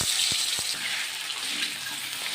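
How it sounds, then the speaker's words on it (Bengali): Water poured into a pan of potatoes frying in oil with sugar for a vegetarian potato, pointed gourd and soybean curry: a steady broad rushing splash with a couple of soft low knocks, no voices. "আলুটা সেদ্ধ হওয়ার জন্য একটু জল অ্যাড করে দিলাম।"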